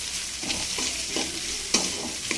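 Okra frying with salt and turmeric in a pan, stirred steadily, with a continuous hiss of sizzling oil and soft scraping strokes at a steady pace, plus one sharper clink near the end.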